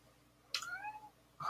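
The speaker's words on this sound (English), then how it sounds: "Every time I do a stream, she's meowing." A female cat meows twice close by in a quiet room, one drawn-out rising-falling call followed by a second cry starting just after.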